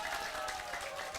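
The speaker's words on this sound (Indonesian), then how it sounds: "berikan tepukan terbaik pada Anda semua" An audience at a financial seminar applauds in a steady, moderately loud wash of clapping that lasts the whole short moment.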